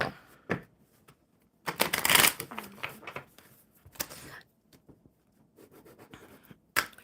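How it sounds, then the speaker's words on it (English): Bursts of tarot cards being riffled and shuffled close by, a few quick flurries separated by quiet pauses, with a brief soft voice between them. "All right, Lizzie, one more good shuffle."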